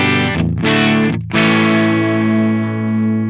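Electric guitar played through a Fender amp with extra gain, distorted chords ringing close and loud, with two quick breaks before a long sustained chord that slowly decays.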